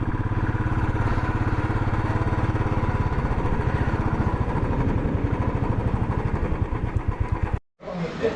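A motorcycle engine runs close by with a steady, throbbing idle while the bike is parked at Eravikulam National Park, then cuts off abruptly near the end, leaving a brief quiet before faint ambient noise returns.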